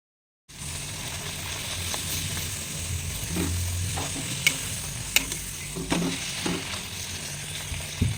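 Luchi puffing as they deep-fry in hot oil at home, a steady close sizzle and bubbling throughout with a few sharp pops and crackles, no voices.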